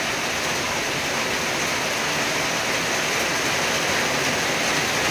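Steady, dense rain pours continuously outdoors at night, a loud even hiss with no break and no voices over it.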